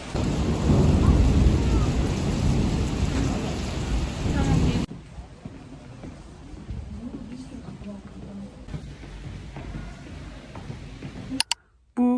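Thunderstorm with heavy rain pouring down, loud and dense at first, then easing into a quieter steady patter with a low rumble of thunder underneath.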